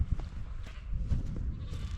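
Sheep on a farm bleat several times in short, close calls over low rustling and footsteps, with no one speaking.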